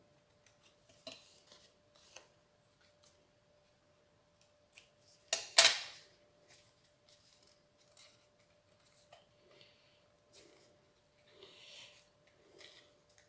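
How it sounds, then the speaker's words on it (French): A small piece of material is snipped while making a shabby-style embellishment craft, giving one sharp, close cut with a few faint handling clicks around it in an otherwise quiet room. "Là, je coupe mon petit bout là."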